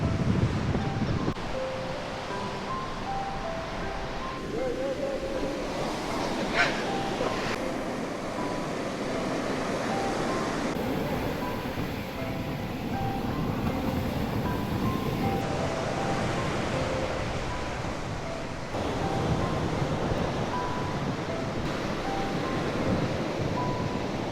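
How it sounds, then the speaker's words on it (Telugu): Ocean surf and wind at Long Beach, a continuous broad roar of breaking waves with gusty wind buffeting the microphone, steady and loud throughout. "So this is long beach."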